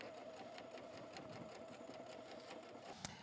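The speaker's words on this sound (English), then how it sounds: "with my raw edges, and I'm going to stitch" A sewing machine stitches strips of fabric for a quilt topper in a rapid, even mechanical whir, steady and close, ending with a single sharp click.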